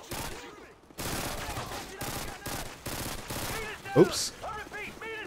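Dual weapons firing in Modern Warfare 2, dense overlapping bursts of automatic fire with a voice talking intermittently between the volleys.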